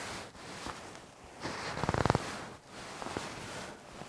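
Close, quiet rustle of a La Sportiva Luminina 200 down jacket being handled, soft fabric swishes and a brief crinkling burst as the down compresses, with no talking.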